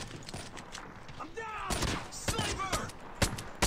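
Revolver shots in Call of Duty Mobile gameplay, several sharp bursts spaced about half a second apart, mixed with a player's voice talking.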